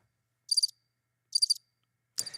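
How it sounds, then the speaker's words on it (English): Three short, high-pitched cricket chirps, evenly spaced, stand out against near silence. "I was looking for crickets."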